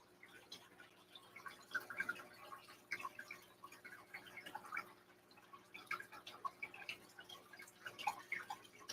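Water trickles and drips steadily into a 40 aquarium tank as it is topped off, a soft uneven patter of droplets with a low hum underneath and no talking.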